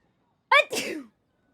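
A single sharp sneeze in a Genshin Impact game scene, loud and close, with a quick inhaled onset followed by a breathy burst, alone against silence.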